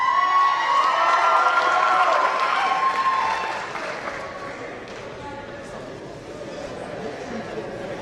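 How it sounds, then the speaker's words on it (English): An audience at a high school signing day ceremony claps and cheers, loud and dense at first and then thinning to a softer patter, with people talking underneath. "Big round of applause for each"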